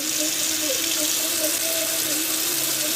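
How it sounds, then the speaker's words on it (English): Air compressor pushing leftover water out through opened valves of an RV plumbing system during winterizing, a steady continuous gushing hiss like a running faucet, fairly loud and unbroken throughout. "now that we have our air compressor all hooked up, all we're going to do is just go ahead and open our valves up."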